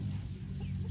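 A broody hen named Lucy, settled on her nest on a homestead, gives low, steady clucking and murmuring, close and continuous without pause.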